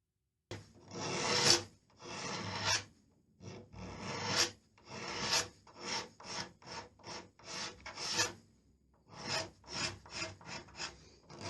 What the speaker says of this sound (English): All I'm using here is a Stanley knife blade